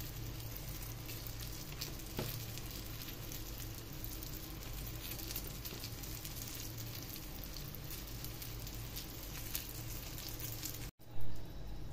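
Eggplant slices fry in a pan with cheese, giving a steady, close sizzle and crackle that runs on with no talk, broken by a single brief knock near the end.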